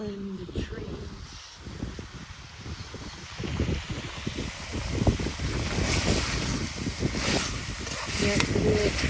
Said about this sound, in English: Oh, the wind is blowing the trees.